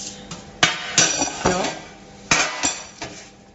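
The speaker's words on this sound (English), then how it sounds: "Okay, I've got a tray with me." A metal baking tray handled in a home kitchen while making an apple cinnamon cake, giving several sharp clanks and clatters at irregular intervals, close and fairly loud.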